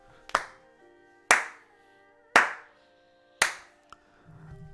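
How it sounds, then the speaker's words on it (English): Four loud, evenly spaced hand claps transmitted over a Discord voice call, each with a sharp attack and brief decay, followed by a softer tap and faint background noise. "I was clapping. You just hear him clapping in the back."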